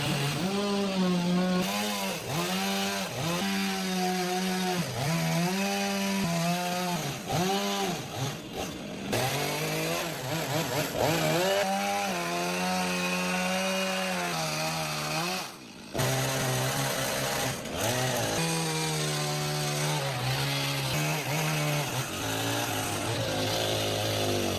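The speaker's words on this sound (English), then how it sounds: "The excess logs sticking out around the window are being trimmed with a chainsaw to make them even" A chainsaw trims excess logs sticking out around the window of a primitive forest log shelter, running loud and close almost continuously with revving pitch swings and a few brief pauses.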